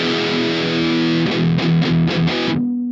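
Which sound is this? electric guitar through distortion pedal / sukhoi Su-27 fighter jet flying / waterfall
electric guitar through distortion pedal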